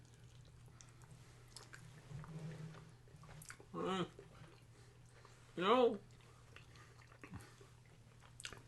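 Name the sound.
people chewing stuffed grape leaves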